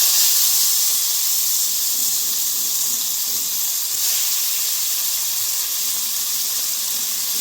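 Onions sizzle in hot mutton fat and oil while cooking gongura mutton: a steady, bright hiss that holds at an even level throughout, with no voices over it.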